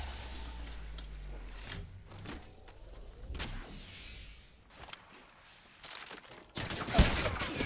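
Bursts of gunfire in a video game, irregular rattling volleys and single sharp shots at varying distances, with louder, denser fire toward the end amid other game noises.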